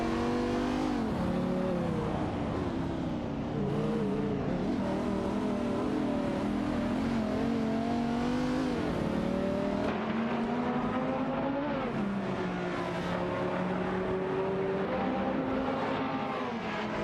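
Racing cars roar through a sim race, an Alfa Romeo MiTo QV dueling a Porsche 718 Boxster, engines droning and shifting pitch steadily as they rev and change gears, close and continuous with no talk.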